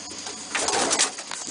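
Pigeons coo at a loft trap, soft and close, with no talking over the steady, breathy background.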